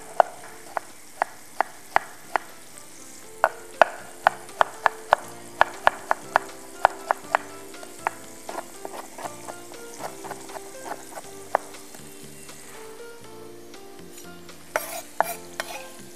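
Tofu sizzles and fries in a pan while a utensil repeatedly taps and stirs against it in quick, irregular clicks.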